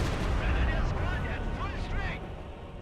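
A dive bomb explodes in a multiplayer strategy video game match, giving a dense, rumbling blast with crackling debris that fades out, heard under continuous spoken commentary.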